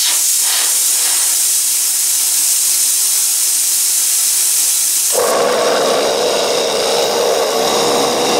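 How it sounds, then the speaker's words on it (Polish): Compressed air released from an air compressor tank, a loud steady hiss that suddenly shifts into a harsher, fuller rushing blast partway through, close and uninterrupted. "Spuścimy powietrze i zobaczymy jeszcze raz."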